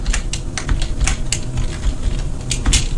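Quick bursts of clicking keys on a computer keyboard as code is typed, uneven clusters of close, crisp taps.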